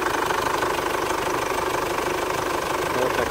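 A 2005 Kia Sportage engine runs close up with a steady, even idle that continues unbroken throughout, with no talking.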